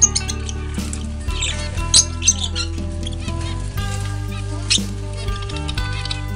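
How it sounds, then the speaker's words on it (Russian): Domestic parrots give high chirps and squeaky calls in quick scattered bursts, heard over steady background music. "Попугаи очень общительны и создают много шума."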